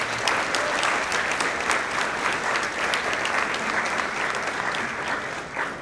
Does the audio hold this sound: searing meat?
no